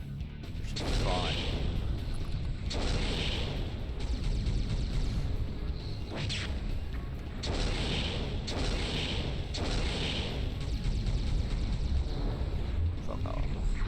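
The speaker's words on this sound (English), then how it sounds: "I just love the sound of the Gauss cannons" Gauss cannon blasts from a battle mech in MechAssault, several loud, spaced booming discharges with crashing impacts over rumbling combat noise, with someone talking at times.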